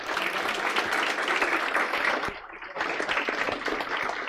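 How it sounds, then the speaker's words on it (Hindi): Loud, dense audience applause fills a classroom-style lecture event in honour of a gold-medal presentation, dipping briefly in the middle before surging back. "एक बार अंकिता मैम और इस सिद्धि के लिए जोरदार तालियां"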